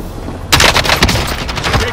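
Loud, close automatic gunfire in a Warzone Rebirth trios match, rapid bursts of shots rattling in quick succession after a brief lull.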